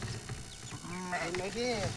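Several large sheep and lambs bleating close by, wavering calls overlapping one another, with a person's voice faintly underneath.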